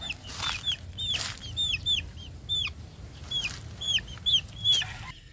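Chicks cheep in high, repeated peeps while chickens cluck softly underneath, a busy, close flock with no voices.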